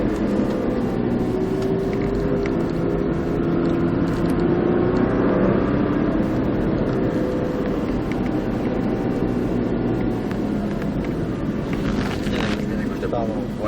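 A Nissan Skyline GTR accelerating down the straight at Nogaro circuit, its engine roar building and droning steadily under continuous wind and cabin noise, heard from inside the car.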